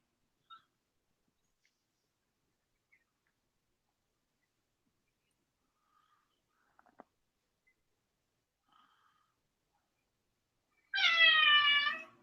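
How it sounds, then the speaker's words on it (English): A house cat meows once near the end, a single clear, fairly loud call after a long stretch of near silence broken only by a few faint clicks. "I heard your cat whenever I exited out"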